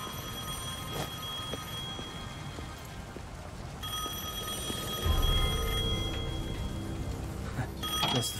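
A telephone ringing in the Devil May Cry 5 video game, faint bell-like rings repeating under a busy game soundscape of patter and background noise, with louder thumps near the end.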